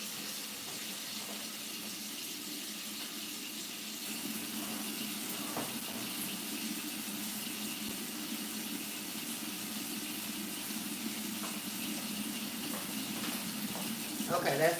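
Tap water runs steadily into a kitchen sink to make dishwater, a constant close hiss and splash that continues for the whole stretch.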